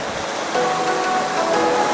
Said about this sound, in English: But that was a heck of a splash.